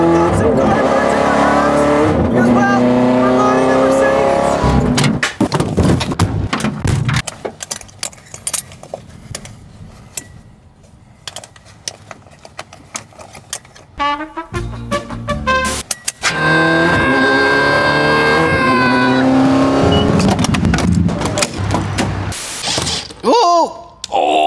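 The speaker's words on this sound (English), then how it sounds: "I'm not touching the throttle, and it redlines itself." A Corvette engine with a throttle fault revs up to redline without anyone touching the pedal. Loud, close engine revs climb and fall in repeated rising sweeps, with a quieter idle in the middle stretch.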